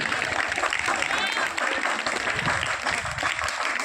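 Steady clapping from an audience at a village school teachers' farewell and welcome party, dense and continuous throughout, with voices mixed in the crowd noise.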